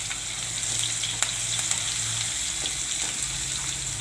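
Ginger, chillies and spices fry and are stirred in a pan for a carrot and pea vegetable dish, a constant close sizzle with light scraping and a few sharp pops.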